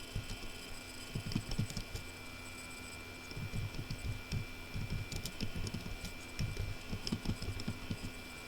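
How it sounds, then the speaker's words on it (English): Someone types on a computer keyboard during a computer studies exam practical: quiet, irregular bursts of key clicks come and go over a steady background hum, with no talking. "So as they type, they just continue pressing control plus S."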